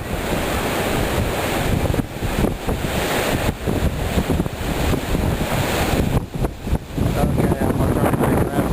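A Hurricane Ike windstorm in Indiana drives strong wind gusts that roar continuously into the microphone, a loud broadband rush with brief dips and surges.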